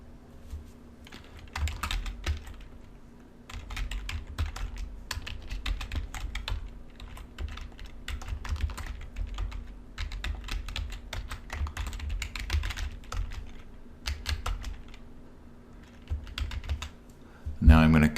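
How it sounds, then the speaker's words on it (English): Bursts of typing on a computer keyboard for a Photoshop text layer, close clattering keystrokes in runs separated by short pauses over a low steady hum. "I'm going to type on there what we'd like to put on here"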